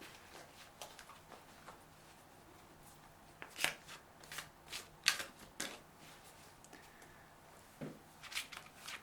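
Soft, irregular riffling and flicking of tarot cards being shuffled, close and quiet, with occasional louder snaps and no voices.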